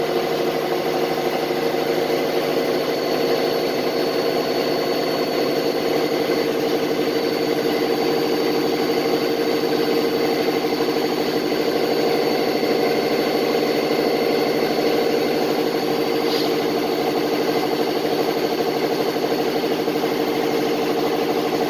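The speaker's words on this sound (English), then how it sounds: "Obviously you can hear the air compressor in the background." An air compressor runs steadily behind a Mazak VTC20B machining center during a drilling operation, a continuous mechanical hum with even loudness throughout and no speech.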